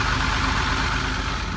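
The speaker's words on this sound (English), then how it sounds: "The engines sound terrific." Engines in a boat's engine room run steadily at close range, a loud, dense and unbroken mechanical roar that holds even throughout, with no voices.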